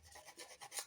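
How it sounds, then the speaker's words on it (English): A metal file rasping the sharp cut edge of a braided copper wire cuff bracelet, a few quick, faint scraping strokes. "File that off because you don't want it on the bracelet"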